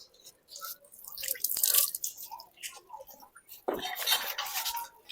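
Water poured for hand washing splashes and drips in uneven bursts, mixed with clinks of a metal vessel, close and fairly loud, with a brief voice in between.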